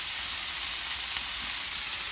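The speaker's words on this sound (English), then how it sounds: "And let them sizzle away there." Liver fries in a hot pan, giving a steady, even sizzle that stays constant and close throughout, with no talk over it.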